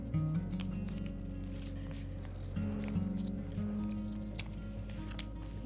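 Sharp scissors snip around a moccasin foot piece in a series of small, quiet cuts and clicks over a steady low hum.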